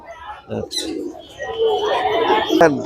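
Pigeons cooing at the crowded Mirpur 1 pigeon market, a close, throaty coo rising over a busy market background with some chirps and brief noises.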